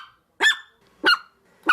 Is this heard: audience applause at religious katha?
no